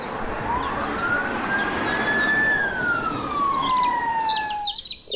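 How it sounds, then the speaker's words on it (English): A single long police car siren wail rises and slowly falls, moderately distant, while birds chirp intermittently in the background. "Police car."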